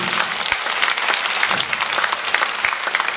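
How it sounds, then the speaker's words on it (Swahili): A church congregation at a Sunday service applauds the bishop's wife, a dense, steady wash of many hands clapping close by, with no voices rising above it. "Tumpigie makofi mazuri."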